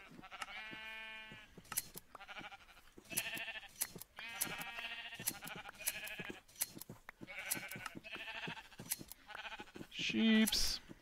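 Repeated Minecraft sheep bleats, some drawn-out and wavering, in a steady busy stream with clicks and game sounds mixed in, one loud bleat near the end.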